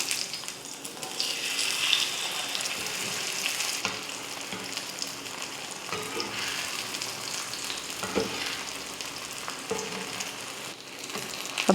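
Masala-coated vanjaram fish frying in oil on a low flame makes a soft, steady sizzle with gentle crackles that continues evenly, fairly quiet and close.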